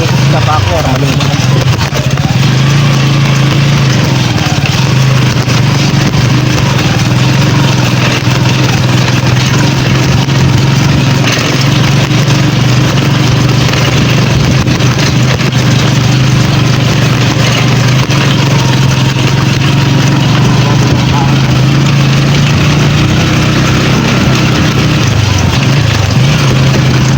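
A grass cutter engine in an eggplant field in Limparan runs with a loud, steady, unbroken motor drone that holds close and constant from start to finish.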